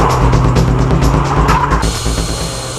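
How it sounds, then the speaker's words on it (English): A nicely tuned Nissan S14 Silvia drifts on a slightly wet track, its engine roaring loudly up close with pulsing throttle and tires squealing, the note shifting into a smoother tire-scrub hiss near the end. "Here is a demo run by Tsuchiya in a nicely tuned S14 Silvia."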